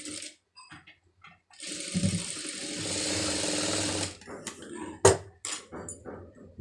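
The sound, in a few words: sewing machine stitching fabric pieces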